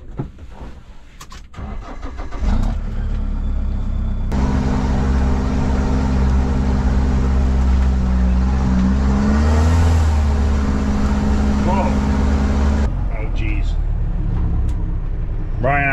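A farm vehicle called Brian's Rockstar starts up and revs, its engine settling into a loud, steady drone, with the pitch rising briefly midway before dropping off; voices talk near the start and at the end.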